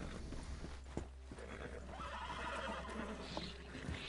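Horse whinnying in Red Dead Redemption 2 Online, a drawn-out neigh over clip-clopping hooves and steady game ambience, with no talking over it.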